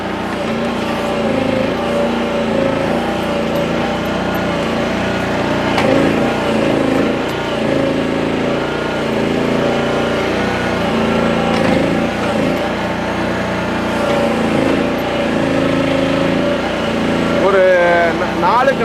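A mini JCB excavator used for digging small pillar pits on farm and construction sites runs at a steady idle. A continuous droning engine note holds for the whole stretch, with a voice talking over it.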